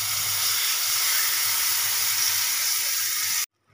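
Palm fruit pulp and cardamom sizzle in hot ghee on a heated tawa, giving a steady, close, bright hiss that cuts off abruptly near the end.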